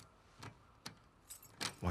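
Keys jangling in The Last of Us Part II, a few short metallic shakes spaced across the moment, faint and close with no talk over them.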